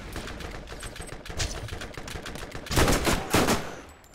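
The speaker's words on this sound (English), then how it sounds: "Now we can get two more kills with our SMG" Rapid SMG fire in the Borderlands shooter, steady chattering automatic bursts that swell louder near the end, close and continuous with no talking.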